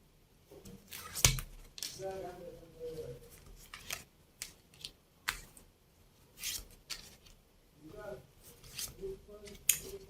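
Tarot cards are spread out and drawn from a deck, making soft, scattered papery rustles and light taps, with one sharper snap early on, all at close range in a quiet room.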